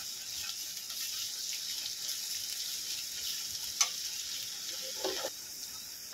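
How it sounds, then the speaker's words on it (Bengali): Capsicum hisses steadily while being stir-fried for restaurant-style chowmein, a constant bright sizzle close by, broken near the end by a couple of brief utensil scrapes against the pan. "মিনিট 2 একটু আমি একটু নাড়াচাড়া করে নেব"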